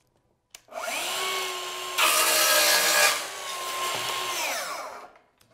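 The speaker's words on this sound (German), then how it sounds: "und sägen das ab." A Festool HK 55 circular saw whines steadily as it cuts through a small wooden board, the pitch dropping and the sound growing louder and rougher midway, then spinning down at the end.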